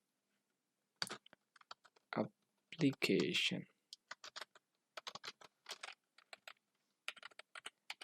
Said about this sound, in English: So I'm typing a title as to do